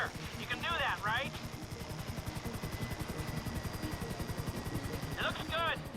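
A helicopter hovers in Grand Theft Auto V, its rotor chopping steadily and loud throughout, with brief chirping game sounds near the start and end.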